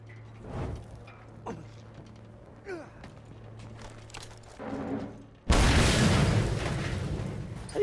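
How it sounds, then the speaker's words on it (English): A gas can blows up in the Mad Max video game: a sudden loud, wide blast strikes after quieter game noises and faint sweeps, then rumbles on, sustained and heavy, to the end. "get an explosion on that thing."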